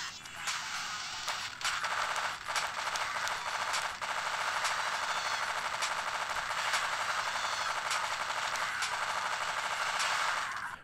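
Rapid gunfire from shotguns and chain guns in the Death Jr. PSP video game, a dense, continuous barrage of bursts filling the whole stretch with a few brief gaps, loud and close.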